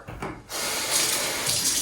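Tap water running steadily into a sink to wet a paper towel for wiping the glass of a gas log fireplace insert, a brief rush swelling into a continuous, fairly loud splashing flow.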